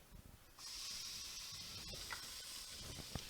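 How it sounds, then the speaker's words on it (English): Bacon hits a hot pan for a Texas chili and begins cooking, a sudden steady hiss of sizzling that starts after a brief pause and carries on with faint crackles. "now we're going to go ahead and start cooking the bacon"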